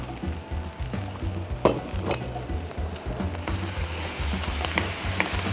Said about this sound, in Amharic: ጋርና ከቅቤው ጋር ሶሴጁን እናበስለዋለን